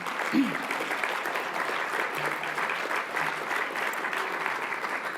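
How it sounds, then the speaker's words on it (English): Steady applause from an audience at a morning MLK breakfast event, a dense even wash of clapping that carries through the whole stretch at moderate loudness with no talk over it. "Let's give a round of applause to my son."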